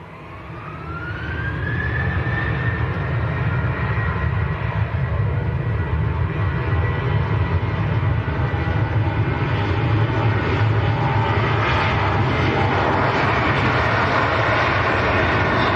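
Lufthansa Airbus A320neo jet at Manchester Airport, a loud steady engine roar with a rising whine early on and a sustained low rumble, with no voices.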